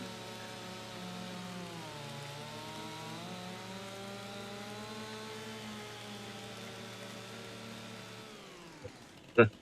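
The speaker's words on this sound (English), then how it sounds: "It's also taking a lot of sawing through as well." A chainsaw cuts through trees in the farming game Farming Simulator 25, running as a steady droning engine whine that shifts pitch slightly, then stops abruptly and ends with a short clunk.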